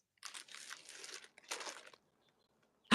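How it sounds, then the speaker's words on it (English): Wrapping crinkles and rustles as a package is unboxed, in two close bursts of papery crackling separated by a short pause, then a sharp sound right at the end. "I'm gonna do an unboxing."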